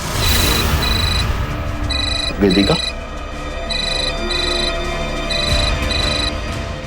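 A telephone rings in repeated electronic double bursts, loud and near, with someone speaking briefly over the ringing.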